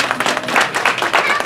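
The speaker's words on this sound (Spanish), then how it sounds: "Un aplauso a la Virgen María." A church congregation at a feast of the Virgin of Guadalupe breaks into brief, dense applause, loud and close, with many hands clapping together.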